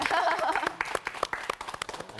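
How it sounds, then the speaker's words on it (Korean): Audience applause at a Korean church Bible lecture, a scattered burst of claps that fades into separate claps, with a voice speaking at the start. "박수."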